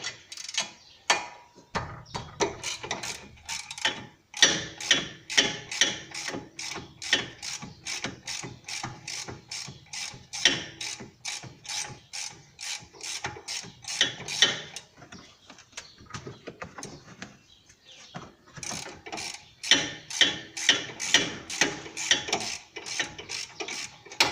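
A ratchet driving a 14mm socket loosens bolts on the front CV axle of a Mercury Montego/Ford 500, giving long runs of rapid, evenly spaced clicks close up, with short pauses between strokes and no talk.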